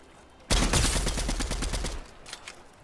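Rapid burst of gunfire in the video game Fortnite, a dense run of shots starting abruptly, loud and close, lasting about a second and a half before tapering into a few scattered later shots.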